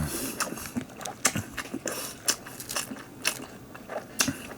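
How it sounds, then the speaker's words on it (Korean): Someone chews fried tofu pouches (yubu) close to the microphone, making repeated soft crunchy bites and moist chewing sounds in an irregular rhythm, with no speech. "씹어서 드시면 되겠습니다"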